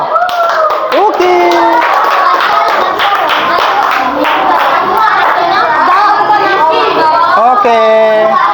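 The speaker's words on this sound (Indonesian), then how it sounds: "Tepuk tangan untuk kelompok 2." Applause from a class fills the classroom, steady clapping mixed with chatter and lively voices throughout.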